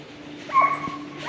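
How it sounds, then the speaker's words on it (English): A coonhound gives a brief high yelp or whine, followed by another rising cry, over a quiet background. "They sound like coon dogs."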